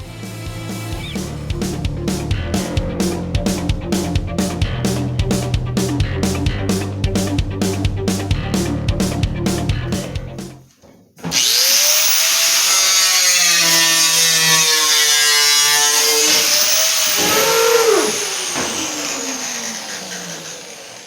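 An angle grinder cuts into vehicle body metal while the body is mounted to the frame. A loud, steady, hissing whine runs through the second half, after a stretch of rhythmic mechanical pulsing. No one speaks.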